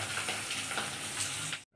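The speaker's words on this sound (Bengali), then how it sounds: "মাছ ভাজাভাজি হচ্ছে।" Fish, rohu for a poppy-seed dish, sizzles steadily in hot oil in a home kitchen pan, a dense close crackle that cuts off abruptly near the end.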